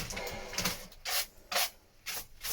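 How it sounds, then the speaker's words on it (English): Power sander working the gel coat on a fiberglass boat hull, four or five rasping, hissy sanding passes in a steady rhythm, close and fairly loud with short quieter gaps between strokes. "it's just sanding away the gel coat, so I'm not losing the thickness of the glass"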